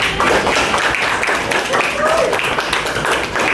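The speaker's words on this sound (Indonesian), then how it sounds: "Oke, kita berikan tepuk tangan." A classroom of students gives a round of applause, a brisk, busy patter of clapping hands filling the room, with voices talking over it partway through.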